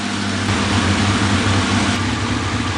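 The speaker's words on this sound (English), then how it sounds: "Just got back from riding it, and idling great" A motorcycle engine idles steadily close by after its carburetors were cleaned with Seafoam, a continuous low mechanical rumble with an even, unchanging rhythm.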